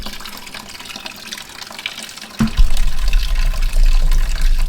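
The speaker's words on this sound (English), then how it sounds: "all of the coolant is drained out of the radiator" Coolant from a Ferrari 575 radiator splashes into a bucket, starting suddenly midway as a loud, steady gushing pour after a quieter stretch of background noise.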